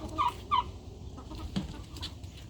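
A backyard hen clucks twice in quick succession, fairly close, followed by softer murmuring clucks over quiet background.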